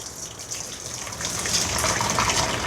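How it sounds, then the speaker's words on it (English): Cooked seasoning liquid for a fried chicken sauce pours through a kitchen strainer, a steady rushing, splashing stream that swells slightly louder toward the end, close and continuous with no talking. "Straining it off in the strainer."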